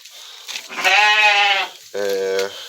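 Cameroon sheep bleat close by on a farm during deworming, with two loud, wavering cries one after the other, the second deeper and shorter.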